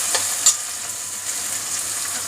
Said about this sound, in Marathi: टमाटो थोडा नरम होईपर्यंत भाजायचा